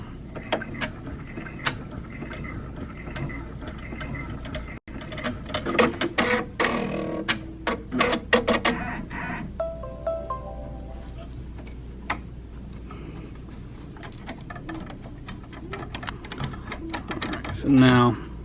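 A 6-needle embroidery machine stitches appliqué fabric on a baby onesie, producing rapid mechanical ticking and clattering bursts near by, with a person talking over parts of it.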